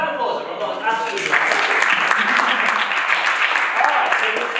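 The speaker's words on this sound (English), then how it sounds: "round of applause, everyone" Workshop attendees at an evening session give a round of applause, many hands clapping steadily and fairly close after a voice briefly speaks, with murmured talk mixed under the clapping.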